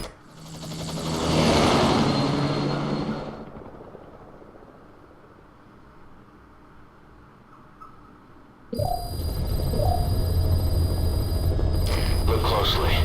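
Helicopter rotor and engine noise from the video game Metal Gear Solid V swells loudly, drops to a quieter hum, then returns as a steady roar, with voices speaking over it.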